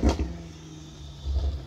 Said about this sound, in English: Don't rev out of here.